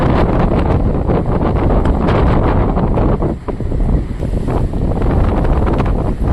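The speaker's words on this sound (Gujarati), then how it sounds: "એટલો પવન હે" Strong wind during a cyclone at sea batters the microphone aboard a fishing boat, a loud, constant roaring rumble with gusty swells that dips briefly midway, and no voices.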